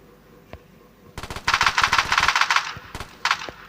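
Rapid automatic gunfire aimed at zombies in a video game, a loud sustained burst of closely spaced shots following a single early shot, then a few last isolated shots.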